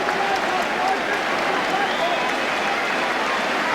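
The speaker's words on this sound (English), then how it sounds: "And the big Argentine gets a generous round of applause." At a 1982 English league football match, the stadium crowd gives a big Argentine player a generous round of applause, a steady, dense roar of clapping and cheering that stays even throughout, with a commentator talking over it.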